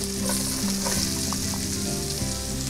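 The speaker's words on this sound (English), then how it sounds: "let's go ahead and throw in our half of a chopped sweet onion" Half a chopped sweet onion hits melted butter in a pan and sizzles loudly and steadily, a dense crackling fry with stirring, close up with no talking.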